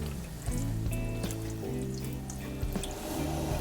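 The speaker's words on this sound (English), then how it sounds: "Now with the corned beef already in the pot, we're gonna go ahead and add some water." Water poured into a Dutch oven holding a roughly 3-pound corned beef, a steady splashing trickle with drips and gurgles that runs close and moderately loud for a few seconds, no talking.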